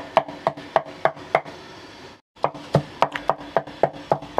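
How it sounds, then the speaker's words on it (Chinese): A cleaver hand-chops meat for a dried-squid meat patty on a board, steady loud rhythmic thuds about three per second, a brief pause partway, then the chopping resumes slightly faster. "因為手剁肉餅你唔需要剁得佢太過溶嘅"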